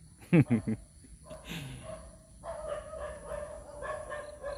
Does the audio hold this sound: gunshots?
no